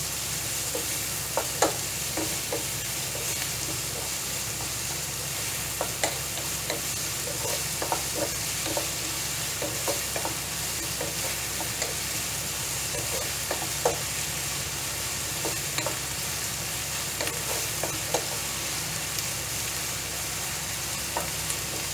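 Onions salted and sautéing in a pan for okra masala, giving a steady close sizzle broken by frequent scraping and clinking of a stirring spoon against the pan throughout, with no speech.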